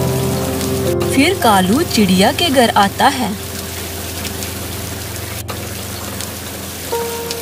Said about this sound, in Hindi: मैं बारिश में भीग रहा हूँ